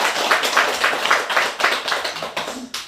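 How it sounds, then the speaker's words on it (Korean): Congregation applause at a Buddhist temple service, a steady close burst of many hands clapping that thins out toward the end. "감사의 큰 박수 한번 보내주시기 바랍니다"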